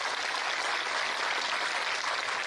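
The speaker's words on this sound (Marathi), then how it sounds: "एकदा जोरदार सगळ्यांनी टाळ्या वाजवा" An audience at a kirtan applauds, a steady dense wash of many hands clapping that holds evenly at moderate loudness for a few seconds.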